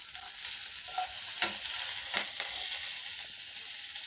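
Dry red chillies, coriander, curry leaves and asafoetida temper in hot oil for white peas sundal, a soft steady sizzle with a few light spatula scrapes and stirs, fairly quiet throughout.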